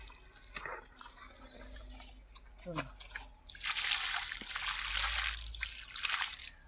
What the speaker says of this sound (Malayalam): ഇങ്ങനെ വെള്ളം ഒഴിച്ച് ഒഴിച്ച് കൊടുക്കണം